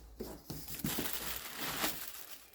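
Packaging for a Fender Tone Master Deluxe Reverb Blonde amplifier crinkles and crushes during unboxing, a few short rustles and crumples heard faint and close.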